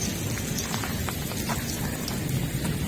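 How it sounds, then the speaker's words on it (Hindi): Heavy rain pours down steadily on trees at La Prairie Beach, Mauritius, a dense close patter with scattered louder drops, continuous and fairly loud, no voices. "बारिश आ गई, इतनी बड़ी बारिश"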